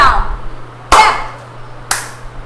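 Hand claps in a nursery rhyme session, three sharp separate claps roughly one second apart, close and fairly loud, with a child-directed voice around them.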